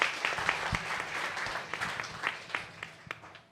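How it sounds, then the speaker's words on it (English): Audience at a startup innovation forum applauds after a pitch, a moderate round of clapping from a modest crowd that tapers off with a few sharp individual claps. "let's give a round of applause for Benjamin."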